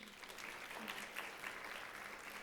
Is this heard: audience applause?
yes